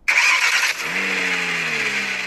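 A car engine sound effect plays from the loudspeaker of a rugged military-style phone: a bright, loud starter crank, then the engine catches and settles into a steady, tinny idle hum, with no talk.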